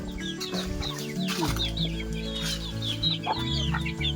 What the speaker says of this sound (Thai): นี่ก็จะเป็นไก่บ้านที่คุณพ่อเลี้ยงไว้นะคะ